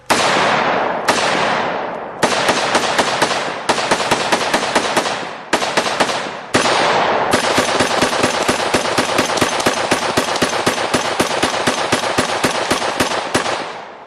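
Real firearms fired outdoors and recorded for game sound design: loud, sharp bursts of rapid automatic fire in long strings, broken by short pauses between volleys, ending in a sustained rattling burst.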